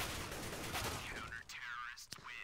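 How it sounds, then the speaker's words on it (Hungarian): Gunfire rattles through a Counter-Strike match on the Mirage map, loud bursts and scattered shots packed densely in the first half, then sparser sharp cracks among in-game effects and noise. "nem nagyon tudta, hogy honnan jönnek azok a lövések"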